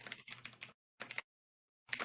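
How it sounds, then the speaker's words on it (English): Computer keyboard typing comes through a voice call in quick bursts of clicks, separated by silent gaps, thin and compressed. "why can I hear Alan's typing so loud"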